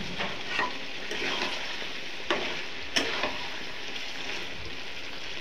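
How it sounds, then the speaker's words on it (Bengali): Local chicken meat being sautéed in a pan with masala for chicken kosha, giving a steady frying sizzle broken by a few sharp spatula scrapes and knocks, with no talk. "মাংসটা অল্প কষায় নিব"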